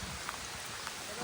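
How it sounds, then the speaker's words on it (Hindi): Heavy rain coming down during a motorbike ride near Kote Betta in Coorg, a dense, even hiss of falling water with a few soft drop ticks, steady and close. "देखो वाह इतना गिर रहा है बारिश"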